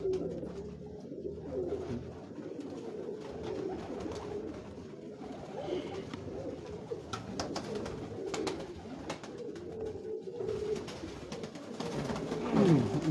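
Tawny-breed pigeons coo softly on a Lahore rooftop, their low repeated calls continuous and fairly faint against a light background hum.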